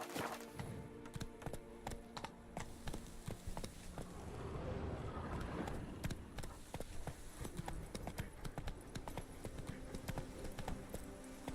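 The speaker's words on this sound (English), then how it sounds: "Even a horse drops if you ride it with a constant gallop." A horse gallops in the video game The Witcher 3: Wild Hunt, Blood and Wine, its close, rhythmic hoofbeats thudding steadily throughout against a soft background.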